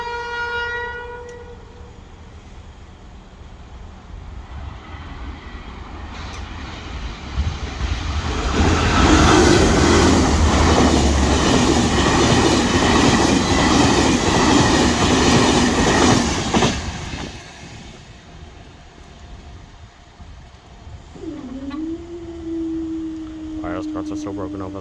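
Enterprise passenger train passing the Dunmurry Glebe Road level crossing in Belfast, building from a distant rumble to a loud roaring, clattering pass lasting several seconds, then fading, with crossing alarm tones sounding before and a rising squeal afterward.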